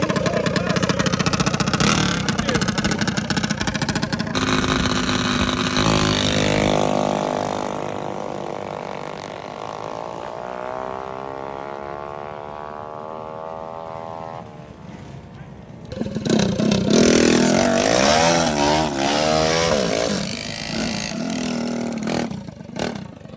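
Supercharged four-cylinder mini bikes, including a wheelbarrow build, race down a drag strip, their engines revving loud and close with a rough clattering note, fading after a run before another bike roars up near the end while voices talk underneath.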